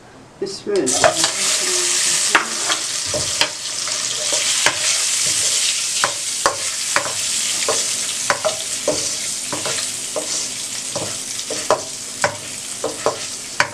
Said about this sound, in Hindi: एक मिनट के लिए आपने अंडों को फ्राई कर लें।